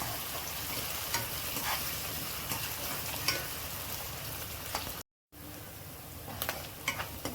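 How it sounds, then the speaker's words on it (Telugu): Dried prawns fry with onions in a pan, giving a loud, dense, continuous sizzle and crackle with scattered pops. The sound cuts out briefly partway through and then resumes. "ఇప్పుడు ఎండ్రాయిలు కూడా వేసి కాసేపు వేపుకుందామండి"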